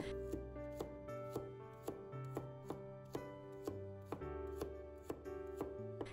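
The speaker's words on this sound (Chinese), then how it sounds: "下面我们准备一把大蒜，简单的给它切成厚厚的薄片" A knife chops steadily through garlic cloves on a cutting board, cutting them into thick slices, each stroke a crisp tap in a fairly even rhythm, faint beneath a louder tonal music bed.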